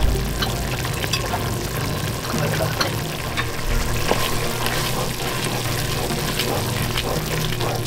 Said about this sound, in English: We're using about 1 cup of dry white wine.